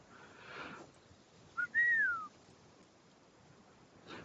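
A person's signal whistle, one short rising note followed by a longer gliding tone, clear against a quiet background.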